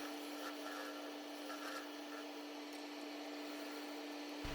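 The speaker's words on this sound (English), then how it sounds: "Making the mortise here with the skew chisel and the bowl gouge." Skew chisel and bowl gouge cutting a mortise in a slightly wet applewood bowl on a lathe: a faint, steady scraping and shaving rasp over a constant motor hum, with brief rougher cuts, no speech.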